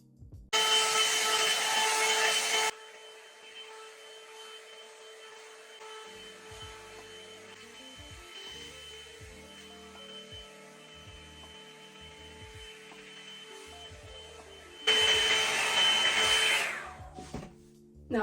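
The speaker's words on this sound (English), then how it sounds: "You have a bigger one that I use first to really blow dry my hair" A handheld hair dryer roars loudly for a few seconds while blow drying 4c natural hair, falls silent through a quieter stretch with faint knocks, then blasts again near the end before cutting off.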